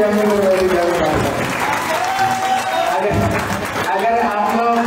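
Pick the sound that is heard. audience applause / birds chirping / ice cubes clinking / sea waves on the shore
audience applause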